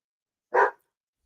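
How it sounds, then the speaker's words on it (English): A single short dog bark sounds close and fairly loud, standing alone in otherwise silent surroundings. "excuse my dog. He likes to bark."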